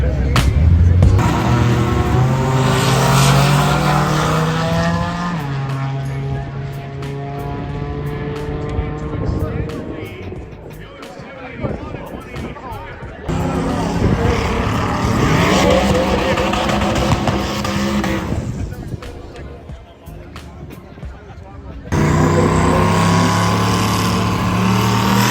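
High-performance race cars, including a Mustang, roar through TX2K25 drag racing qualifying passes, loud engines rising and falling in pitch with a few cuts between runs, while voices talk in the background.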